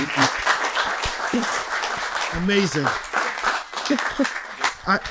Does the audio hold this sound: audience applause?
yes